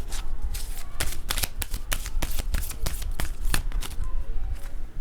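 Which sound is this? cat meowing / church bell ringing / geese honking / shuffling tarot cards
shuffling tarot cards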